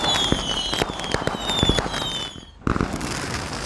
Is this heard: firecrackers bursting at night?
yes